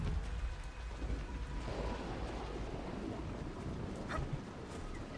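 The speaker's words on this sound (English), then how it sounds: "Wonder if it's going to be permanently raining here." Steady, heavy rain pours down while low thunder rumbles through in a video game (Dragon Age: Inquisition), with no voices.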